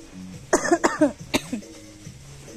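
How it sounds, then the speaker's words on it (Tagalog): Several close, harsh coughs in quick succession from one person, followed by a softer throat sound in a quiet room. "Gratis na ubo."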